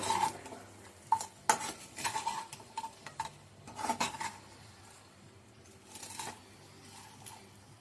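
Fish fry marinade being mixed by hand in a bowl, giving soft irregular stirring and scraping with sharper utensil-like clicks and taps, close up and moderately quiet, no talking.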